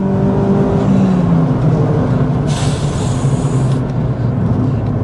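Renaultsport Clio engine revving hard and high, a loud continuous rising drone with road and wind roar, no talking.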